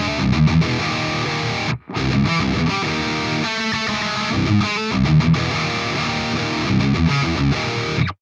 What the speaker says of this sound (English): there's an absolute plethora of metal tones and metal presets that you can get out of this plugin